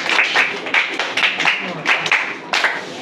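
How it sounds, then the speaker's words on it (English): Scattered clapping from a small group of students at a Teachers' Day event, a few hands beating in uneven bursts, close and fairly loud, with a voice briefly mixed in. "So give yourself a round of applause."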